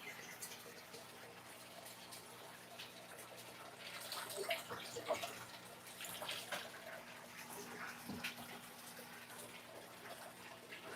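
Aquarium water is poured onto a potted plant, a faint, steady trickling and splashing that swells slightly midway, with no talk.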